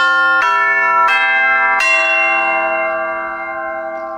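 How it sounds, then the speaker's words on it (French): Tubular bells in a recording studio ring three struck tones in succession, each bright metallic strike leaving a long, shimmering decay that fades slowly toward the end. "c'est un jeu de cloches, tubular bells, qui imite les sons de cloches d'église"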